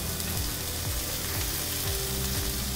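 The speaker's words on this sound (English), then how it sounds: "I'm just going to cook these spices out for a couple of minutes." Nigella seeds, ground fenugreek and allspice sizzle in oil in a Dutch oven for a berbere beef stew, a steady close frying hiss that runs unbroken with faint stirring beneath it.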